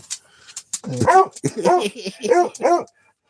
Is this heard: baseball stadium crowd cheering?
no